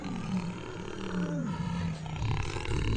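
A bear roars in a comedy film scene, a deep, rumbling growl that is fairly steady and sustained for about three seconds, heard alone without speech.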